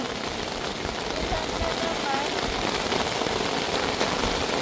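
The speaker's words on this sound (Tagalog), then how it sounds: "Umuulan." Steady rain patters on a surface at a mountain campsite in Atok, Benguet, a dense, even hiss that never lets up.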